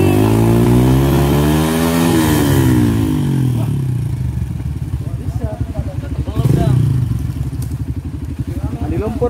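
A trail motorcycle engine revs hard on a muddy river track during a group trail ride, loud and close, with a rising and falling roar that settles into a steady rumbling idle. Voices talk over the engine throughout.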